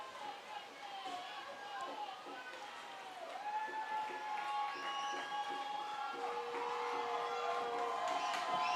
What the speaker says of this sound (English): Crowd on their feet making some noise.